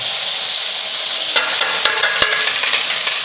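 Spices for tinda sabzi fry in hot oil in a pan: a loud, steady sizzle close by, joined partway through by scraping and clinking as the masala is stirred.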